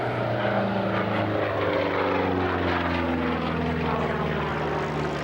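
A P-47 Thunderbolt fighter's piston engine drones loud and steady during a faceted aerobatic roll at an airshow, a continuous propeller roar with smooth, slowly shifting tonal harmonics.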